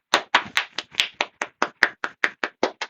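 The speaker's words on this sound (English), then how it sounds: "If you're happy and you know it, clap your hands" Children at a toddler singalong clap their hands in time, a sharp, regular beat of about a dozen distinct claps at a brisk, even pace, close and clear with no talking.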